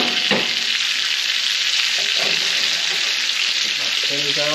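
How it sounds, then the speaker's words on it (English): Steaks sizzling in a hot pan with pats of butter, a loud, dense, steady frying hiss that fills the whole stretch, with faint clinks and a soft voice low underneath. "I flipped my steaks over, and now I'm gonna add a couple pads of my butter."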